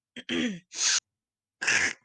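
A person clears their throat close to the microphone in three short, rough bursts, with a pause before the last one.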